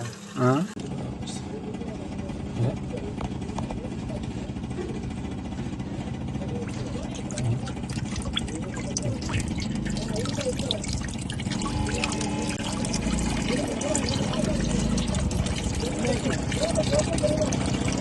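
Water gushes and splashes steadily from a tractor's diesel tank, with the engine idling and people talking over it.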